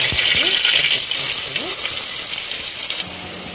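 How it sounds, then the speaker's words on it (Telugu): Chopped onion frying in hot oil in a pan for Andhra mango rasam, a steady close sizzle with a few soft stirring scrapes, no talk. "హీట్ అయ్యాక ఉల్లిపాయ వేసుకోవచ్చు."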